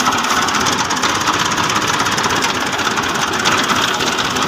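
A tractor-driven thresher runs loud and near on a farm, a steady dense mechanical roar with a low rhythmic engine chug underneath and no pauses.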